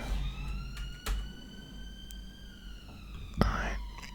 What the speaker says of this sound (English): Apologies for the ambulance outside.